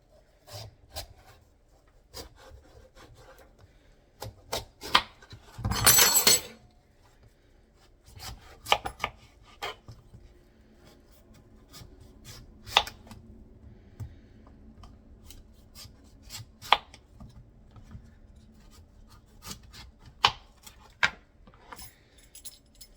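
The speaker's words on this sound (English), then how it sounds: "Now I'm gonna cut them to size so I can peel them easily" A knife cuts pumpkin into pieces, giving sparse sharp chops and scraping cuts spaced irregularly, with one longer burst of rasping, all close and fairly quiet against near silence.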